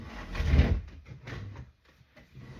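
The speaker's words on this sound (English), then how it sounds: "Oh, my drawer won't open." A wooden drawer being tugged and sticking in a sewing and junk-journal craft space: a loud scraping, thumping pull, then softer knocks and rattles as it resists opening.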